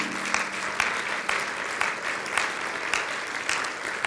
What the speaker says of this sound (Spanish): Dale el aplauso de alabanza a nuestro Señor Jesús.